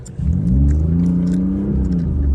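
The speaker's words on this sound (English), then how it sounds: "I'm going to step on the gas a little bit harder and you'll be able to hear the noise" BMW i8 accelerating on the street, a low droning engine note that swells in after a quiet start and holds steady with a slight rising pitch, close and fairly loud.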